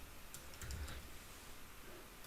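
Soft typing on a computer keyboard while renaming a file, a short run of light clicks near the start over a quiet, hissy room background, with no talking.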